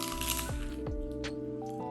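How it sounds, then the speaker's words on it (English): Crisp crunching as shrimp with coleslaw and black sesame seeds is bitten, a few sharp cracks close to the mic over a faint steady background. "Listen to that beautiful crunch"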